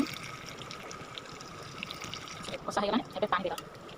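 Water poured into a pan of chicken curry, a soft trickling and splashing that swells near the end over steady background noise, with no talk.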